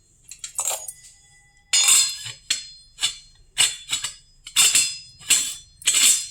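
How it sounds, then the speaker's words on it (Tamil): An antique brass tumbler is struck repeatedly, each hit giving a bright ringing clink with a short metallic decay, about eight strikes in an uneven rhythm, close and alone. "உள்ள ஒரு டம்ளர் இருக்குங்களேன், சவுண்டு பாருங்க எப்படி கேட்குதுன்னு"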